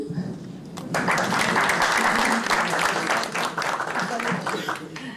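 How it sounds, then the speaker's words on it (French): Audience applause at a talk, beginning after a moment of quiet murmuring and rising into steady clapping from many people that lasts for several seconds at a moderate, fairly even level. "on peut applaudir."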